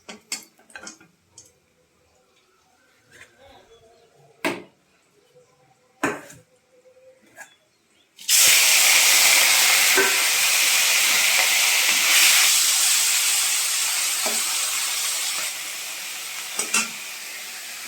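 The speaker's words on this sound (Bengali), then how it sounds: "চিংড়ি মাছের মাথাটা আমি আলাদা ভেজে নিচ্ছি" Shrimp heads hitting hot oil in a wok, a sudden loud, steady sizzle that bursts in after scattered clicks and clatters and keeps hissing close up to the end, with faint utensil taps.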